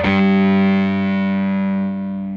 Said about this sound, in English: as soon as we get above zero on the distortion knob, the volume goes way up and, well, it gets more distorted